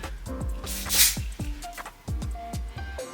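Repeated short hissing sprays of hair bond spray from a pump bottle onto a wig, one longer burst in the middle, mixed with small clicks and squishy handling noises.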